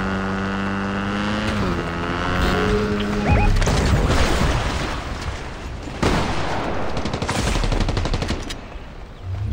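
Bursts of rapid gunfire in a Fortnite match fill the middle of the clip alongside layered game effects and tonal sounds, loud and busy throughout.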